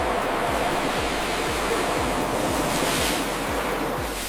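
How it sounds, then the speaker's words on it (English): Ocean waves crash against black rocks, forming a loud, continuous roar of surf and spray with rhythmic low thumps and wind noise throughout. "whitecaps crash against black rocks"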